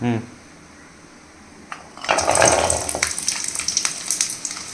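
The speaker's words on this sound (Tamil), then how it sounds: "இப்போ எண்ணெய் சூடாச்சுன்னா இந்த சின்ன வெங்காயம் பூண்டு இஞ்சியெல்லாம் போட்டுக்கலாம்" Small onions, garlic and ginger hit hot oil in a pan, and after a quiet start a loud burst of sizzling and crackling erupts and then keeps hissing steadily close by.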